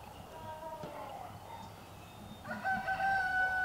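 A rooster crows inside an animal shelter in Santa Cruz County, the call rising near the end over steady indoor background noise and faint clucking.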